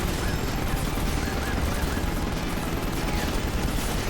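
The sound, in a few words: gunfire in video game Final Fantasy XV Episode Prompto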